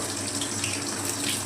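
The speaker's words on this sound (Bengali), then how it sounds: "আলুগুলো ভেজে নেব" Cut potatoes frying in oil with whole cumin and bay leaf for a vegetarian cabbage curry, a steady, close, dense sizzling hiss with no pauses and no voices.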